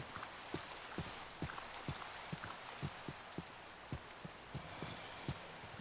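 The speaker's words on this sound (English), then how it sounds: "I like how my footsteps, you can hear them. They sound like I'm hitting wet ground now" Footsteps on wet ground during rain in the Minecraft video game, heard as a steady series of soft, regular thuds over a constant hiss of falling rain.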